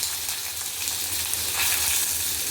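Chopped garlic and onion sauté in hot oil, a loud, dense, steady sizzle heard close with faint stirring underneath.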